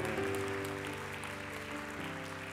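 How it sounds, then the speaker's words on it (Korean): A church congregation at a Saturday young-adults service claps warmly and steadily, a dense wash of applause throughout with sustained keyboard tones underneath. "뜨거운 박수로 한번 축복해 주시기 바랍니다"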